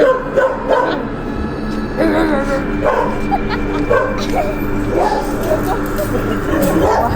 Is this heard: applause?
no